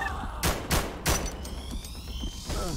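Gunshots in the game SCP Containment Breach: three loud, sharp bursts in quick succession followed by quieter scattered shots and ambient game noise.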